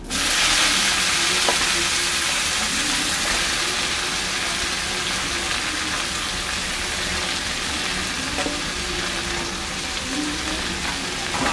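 Washed red amaranth greens dropped into a hot pan with lightly fried poppy seeds set off a loud, dense, continuous sizzle that holds steady with a few faint clinks, and no one speaks.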